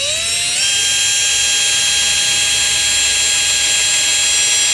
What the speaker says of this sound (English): drill on through the perspex and the metal so we get the holes exactly right